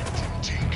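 A frag grenade blast in Ghost Recon Wildlands, a short loud boom with a rumbling tail, close and heard with voices nearby.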